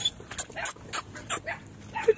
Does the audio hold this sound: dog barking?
yes